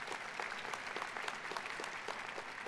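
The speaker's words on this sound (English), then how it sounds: "You can give him a round of applause as well." An audience at a college diploma and awards ceremony claps together, a steady, fairly faint patter of applause with no speech over it.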